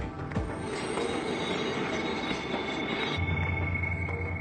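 A train in Sudan rumbles steadily along with a high metallic wheel squeal, continuous and fairly close, with a lower engine drone joining toward the end.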